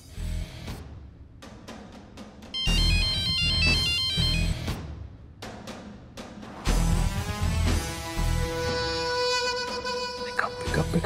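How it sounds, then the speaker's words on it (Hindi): A phone ringtone plays in repeated melodic bursts, fairly loud and close, over busy background sound, with no one answering. "गुड्डन फोन क्यों नहीं उठा रही है?"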